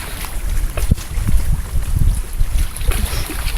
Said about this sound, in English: Real windy. This probably sounds pretty bad.